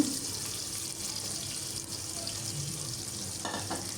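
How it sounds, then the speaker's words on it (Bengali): Onions fry in hot spiced oil in a pan for an aloo gosht dish, giving a continuous even sizzle close by, with a brief stirring scrape near the end and no voices. "পেঁয়াজ দিয়ে নাড়াচাড়া করে কিছুক্ষণ ভেজে নিব"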